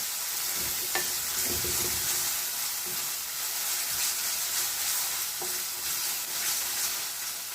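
Fish frying in a pan with green chilies and salt being stirred in, a steady soft sizzle punctuated by scraping stir strokes of a spatula, close and fairly quiet.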